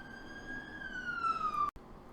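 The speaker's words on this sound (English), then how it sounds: "I just had a siren go by and it was just too much." A siren wails past outside, a loud steady tone sliding slowly downward for nearly two seconds before cutting off abruptly, leaving quieter background noise.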